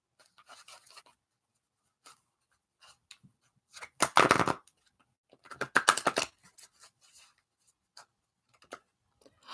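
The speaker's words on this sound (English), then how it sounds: "let me go ahead and shuffle this deck" A deck of tarot cards shuffled by hand, soft scattered riffles and taps building into two louder bursts of fluttering cards, close and otherwise quiet.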